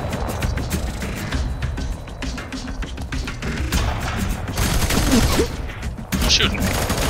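Dense, sustained gunfire rattles through a slum firefight in the video game F.3.A.R, loud and continuous with bursts of automatic fire and thuds, while voices talk over it.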